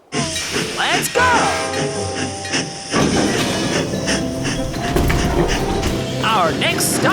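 Loud rumbling and hissing of a cartoon train drawing near, with squealing, cartoonish whistle-like tones and excited voices over the roar.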